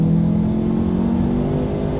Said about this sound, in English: let's do a quick little acceleration and let's see how quickly we can get the new 2020 Lincoln